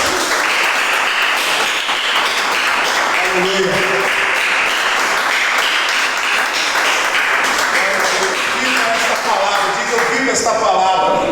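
A church congregation applauds loudly and continuously for several seconds, a dense wash of clapping with a voice calling out over it.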